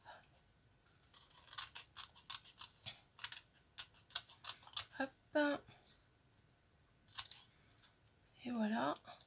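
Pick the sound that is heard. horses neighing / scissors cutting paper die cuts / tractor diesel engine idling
scissors cutting paper die cuts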